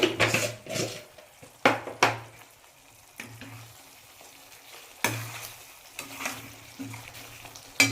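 Prawns frying in ghee in a pan are stirred repeatedly, with sharp scrapes and clinks of the utensil against the pan over a steady sizzle, no talking.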